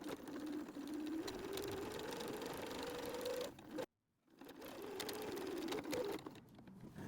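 A sewing machine runs steadily, stitching two folds of a water bottle sling strap together near the edge; the motor hum pauses briefly midway, then resumes at the same even pace.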